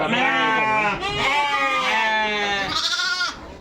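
Australian sheep bleating on a farm: a close, loud, wavering bleat that breaks and repeats, with another animal calling near the end.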